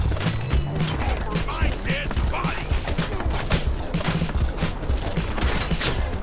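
Automatic weapon gunfire in a GTA game, dense rapid bursts of shots running steadily throughout, loud and close, mixed with mechanical clatter.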